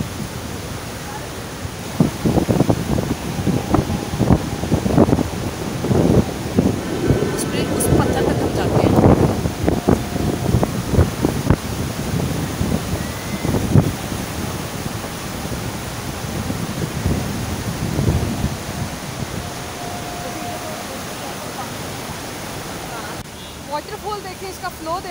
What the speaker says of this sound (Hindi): वाटरफॉल देखें, इसका फ्लो देखें